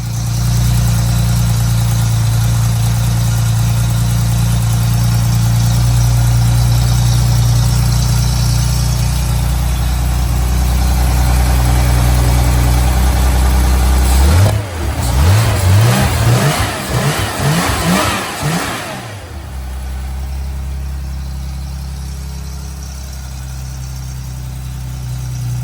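A Mitsubishi 4G63 Evo VIII engine, swapped into a 1980 Porsche 911, idles with a loud, close, steady drone, then revs up sharply in several rising pulls before settling back to idle.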